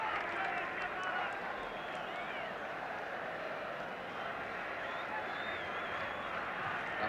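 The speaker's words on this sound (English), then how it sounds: "Tremendously noisy crowd." A tremendously noisy football stadium crowd at Northern Ireland v England roars steadily in a dense, continuous wash of cheering and whistling, with no pause throughout.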